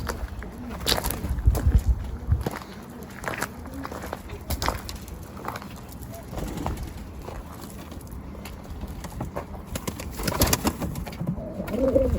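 Tumbler pigeons that have just landed are handled in a loft, with scattered wing flaps, scuffling and soft coos in short bursts and a faint voice now and then.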